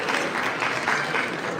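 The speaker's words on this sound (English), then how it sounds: "Can we have a round of applause for that?" Wedding guests applaud steadily together, a dense, even wash of clapping that fills the whole short stretch at a moderate distance.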